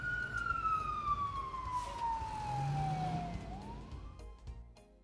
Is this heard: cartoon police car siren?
yes